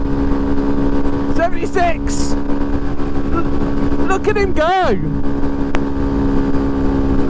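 A small Honda Monkey motorbike runs flat out with a steady, droning engine note over heavy wind rush, while someone talks excitedly over it and shouts a speed figure.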